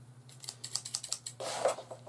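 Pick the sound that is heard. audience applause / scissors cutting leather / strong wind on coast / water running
scissors cutting leather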